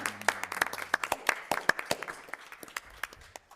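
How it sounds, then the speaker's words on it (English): Sparse, scattered hand clapping from a small group at a community board meeting, a few dozen distinct claps that thin out toward the end, moderately close in a meeting room. "We give them a round of applause in case they're watching."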